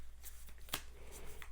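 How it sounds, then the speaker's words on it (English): A deck of oracle cards is given a quick riffle shuffle, one short crisp burst of fluttering card edges standing out against quiet room tone. "doing a little shuffle"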